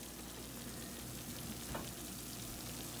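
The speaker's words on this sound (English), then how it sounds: "Hear the sizzle?" Steady, crackling sizzle of food frying in a pan, soft and continuous, with no voices.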